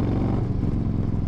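A lowrider motorcycle idles nearby with a deep, loud, throbbing exhaust rumble that stays steady throughout the short moment.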